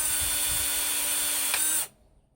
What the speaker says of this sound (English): push the rivet in the hole and pull the trigger